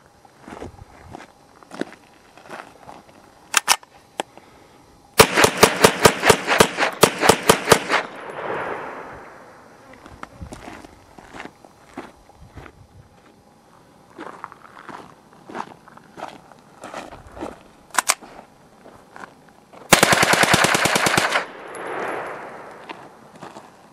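Rapid bursts of gunshots from a Ruger PC Carbine rifle fitted with a Bushnell TRS25 red dot, loud sharp cracks in quick strings with scattered single shots, clanks and echoing tails outdoors.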